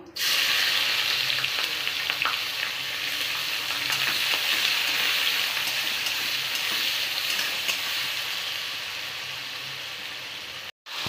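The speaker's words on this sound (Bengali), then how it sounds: "কড়াইতে দিয়ে দেবো তেজপাতা, জিরে, দুটো শুকনো লঙ্কা, আর দেবো এখানে পেঁয়াজ কুচানো।" Bay leaf, cumin, dried red chillies and chopped onion fry in a wok, giving a steady, loud sizzle with occasional stirring scrapes that run nearly eleven seconds before cutting out briefly at the end.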